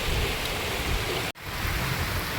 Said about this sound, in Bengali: কিন্তু আজ অবশেষে বৃষ্টি শুরু হলো।